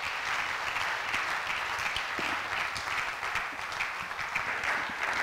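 A church congregation applauds steadily to acclaim the Lord while welcoming an apostle, a dense, continuous wash of clapping at even loudness throughout with no break.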